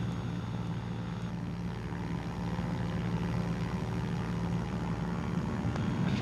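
Steady propeller and engine drone from a Cessna 210 cruising over hills in Malawi, recorded inside the cabin as a constant, even roar throughout.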